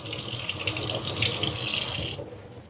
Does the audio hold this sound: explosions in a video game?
no